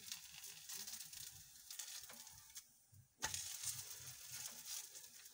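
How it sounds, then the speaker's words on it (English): Swahili pizza cooks in a pan, sizzling steadily and up close from start to finish, with a brief dip and a louder crackle partway through, and no talking. "After spreading it like this, you carry it to your pan. Let it cook"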